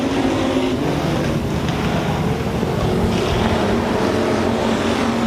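IMCA hobby stock race cars thunder around RPM Speedway in a tight line, their engines a loud, unbroken roar mixed with wind buffeting, with no voices over it.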